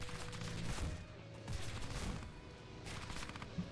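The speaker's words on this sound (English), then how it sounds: "Now we're going to send some 37mm cannons at this guy." Bursts of 37mm cannon fire come from an American propeller aircraft in War Thunder: a few rapid, punchy volleys over a steady engine drone, loud and close.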